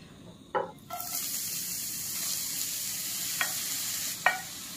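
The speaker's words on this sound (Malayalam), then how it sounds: "ഈ നെയ്യിൽ കിടന്ന് ഇത് നന്നായിട്ട് ഇളക്കി കൊടുക്കാം." Grated carrot sautéing in ghee sizzles in a pan, the hiss starting after a couple of sharp clatters and continuing steadily, with occasional taps of the stirring spoon.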